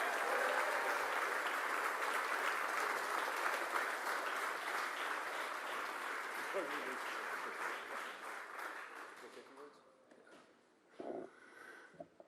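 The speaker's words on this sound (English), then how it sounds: "Give a round of applause for Ted." Rally audience in Philadelphia applauding a man named Ted as he comes up, a loud sustained crowd clapping and cheering that fades out after about ten seconds, followed by a few scattered noises.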